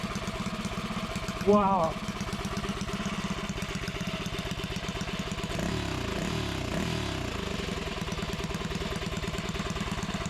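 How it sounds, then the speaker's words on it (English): A Predator 212 small engine runs steadily through its break-in on gravity-fed fuel, a continuous close mid-pitched drone that holds throughout, with a brief exclamation from a person near the start. "Now we just gotta let it run for about 10 minutes, break in."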